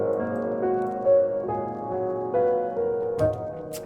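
Piano melody run through an RC20 cassette preset with chorus, a short, warm, slightly wobbly phrase of sustained notes, close and moderately loud with no talk.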